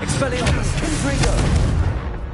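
A Confringo blasting spell in Hogwarts Legacy goes off as a dense, sustained booming roar that fills the clip, with a voice mixed in among the game effects.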